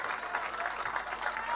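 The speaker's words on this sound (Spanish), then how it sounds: "el aplauso" Brief applause from a crowd at a provincial salami festival, steady clapping that fills the whole moment at moderate volume.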